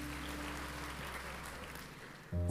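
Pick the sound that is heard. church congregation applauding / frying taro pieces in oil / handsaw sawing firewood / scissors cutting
church congregation applauding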